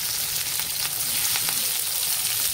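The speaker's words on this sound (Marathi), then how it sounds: "हे छान मस्त भाजून घेणार आहे" Tempering (phodni) sizzles steadily in hot oil for Marathi dill leaf (shepu) sabzi, a dense crackling hiss with occasional stirring, close and continuous, no voices.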